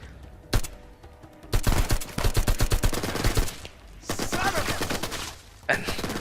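Gunfire in Uncharted 4 tearing into a wooden log: an early single shot, then loud sustained bursts of rapid fire with splintering impacts, a brief pause, and a final burst.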